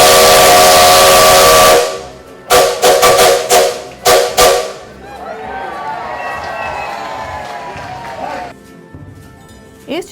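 The Maria Fumaça steam locomotive blows a loud, long whistle close by, followed by several short sharp blasts, then a softer hissing of steam with voices in the background.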